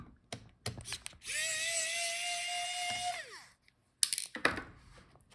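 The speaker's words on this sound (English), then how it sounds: "Now unscrew the screw on the top." A small screwdriver turns out a screw holding the Wi-Fi card in an MSI Bravo 15 laptop during a teardown, giving a steady whining, ratcheting tone for about two seconds between short clicks and taps, close and clear.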